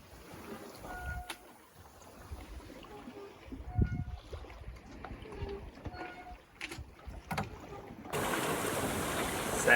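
A sailboat moves across the open ocean in light wind on a passage from French Polynesia to New Zealand, with soft water wash, occasional creaks and knocks, and a steadier rushing swell near the end.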